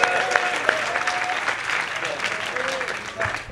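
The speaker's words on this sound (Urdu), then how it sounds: "طرفداریاں خود بخود تالیاں بج رہی ہیں" Applause from an audience at an offset printing workshop on color management, a lively patter of clapping hands with a few sharp claps standing out, mixed with a voice talking over it.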